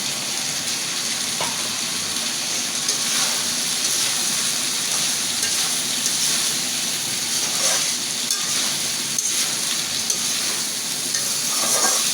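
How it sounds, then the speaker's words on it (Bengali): Green chilies and onion sizzle and fry steadily in a pan with steady hissing and occasional stirring scrapes, close and fairly loud with no talking. "এখন কাঁচামরিচ আর পেঁয়াজ দিয়ে দেবো"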